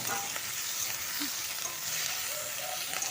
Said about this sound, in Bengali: তো এগুলো আমি ভালো করে একটু লাল লাল করে ভেজে নেব।